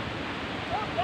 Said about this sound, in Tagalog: sobrang malakas ang hangin kasi nasa pinakamataas na kami